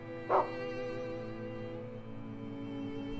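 A dog in the video game Rule of Rose gives a single short, faint bark over a steady droning game music bed.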